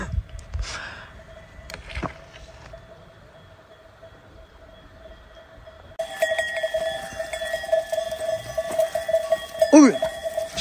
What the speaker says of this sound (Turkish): Koyun bölünmüş Recep abim.